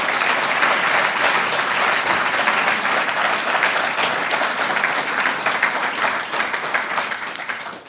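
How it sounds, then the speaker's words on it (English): A lecture audience at a festive evening event applauds steadily for about eight seconds, a dense, sustained wash of many hands clapping that stays loud throughout and tapers slightly at the end. "give a round of applause for that contribution"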